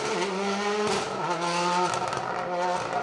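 A historic rally kit car with a sequential gearbox roars past on a wooded stage at high revs, loud and close, with gear changes dropping the pitch before it climbs again.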